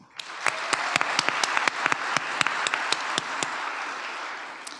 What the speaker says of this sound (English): we'll do a round of applause in case they are able to be following us remotely